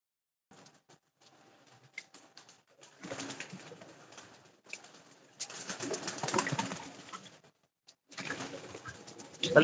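Pigeons coo softly in bursts, with rustling and patter between, fairly quiet and with no talking.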